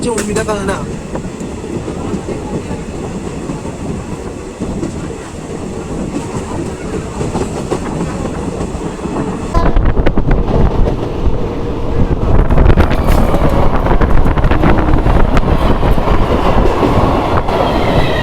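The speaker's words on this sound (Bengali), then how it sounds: "আমাদের ট্রেন বেরোচ্ছে এই মুহূর্তে" The Teesta Torsha Express rumbles and clatters out of a station, heard from a sleeper-class coach, with wind buffeting the microphone; the noise swells suddenly partway through and stays loud as it gathers speed.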